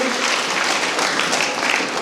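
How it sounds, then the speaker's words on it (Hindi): An audience at a college annual function and prize-giving ceremony claps loudly and steadily to welcome a guest, a dense continuous wash of applause filling the hall. "उनके लिए भी जोरदार तालियों से आप स्वागत करेंगे"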